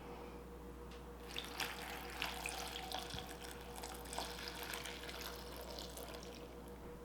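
Water running and splashing steadily into a blender for several seconds, fairly close, with no talking.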